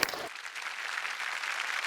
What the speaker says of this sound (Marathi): एकदा जोरदार टाळ्या होऊन जाऊन